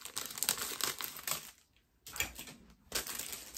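A plastic packaging bag from an online haul is cut open with scissors, producing close, crinkly snips and rustles in bursts, separated by a brief quiet pause before further crackling handling.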